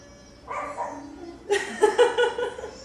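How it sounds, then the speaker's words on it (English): A dog barks several times in a row, sharp and fairly near, starting softer and then growing louder and more rapid indoors during a gentle yoga class, with faint background noise. "the irony is that dog barking"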